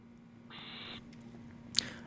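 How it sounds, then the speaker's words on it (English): An owl defending her nest gives a single steady half-second call, followed by a sharp, brief high-pitched screech; the sound is faint and distant with a quiet hum underneath. "Owl defends her nest."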